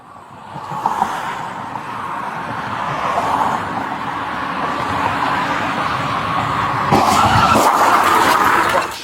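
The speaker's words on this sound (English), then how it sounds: "a driver intentionally rammed a police squad car from behind" A car deliberately rams a police patrol car from behind, heard as a steady skidding, tire-screeching roar of vehicle noise that swells into a louder, harsher crash-like burst near the end, with no talk.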